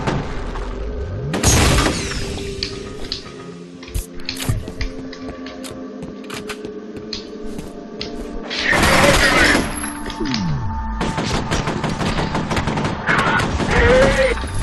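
Gunfire and blasts from the video game F.E.A.R., with a loud burst near the start, dense crackling shots and a second heavy blast around the middle, then sustained rattling fire over a steady game background.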